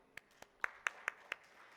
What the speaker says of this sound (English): So I think a big round of applause, please.